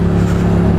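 A motorcycle fitted with a Mivv GP slip-on exhaust gives a loud, close, throaty engine drone, held steady through a very short burst.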